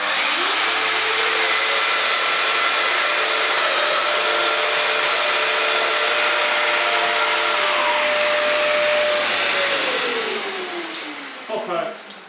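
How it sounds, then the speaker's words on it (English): A Festool Domino DF 700 joiner cutting a slot in wood: a loud, close motor whine holds steady, with pitch shifts as the cut plunges, then spins down near the end. "I first cut the initial slot."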